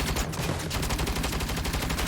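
Rapid, sustained automatic gunfire in Saints Row, loud and close, a dense rattle of shots running without pause.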